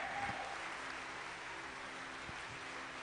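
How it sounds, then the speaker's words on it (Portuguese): Congregation applauding during a church worship service, a steady wash of clapping that holds at an even level throughout with no pause or voices. "Aplauda o Senhor"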